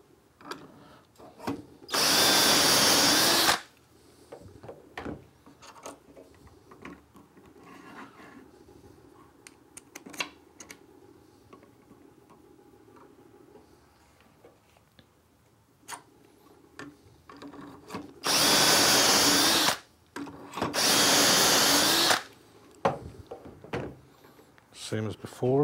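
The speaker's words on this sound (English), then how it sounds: "tighten, and drill the number 5" Two bursts of power drilling bore dowel holes through a Dowelmax jig clamped to a wooden workpiece, the first short and the second in two loud runs, separated by quiet handling clicks and faint talk.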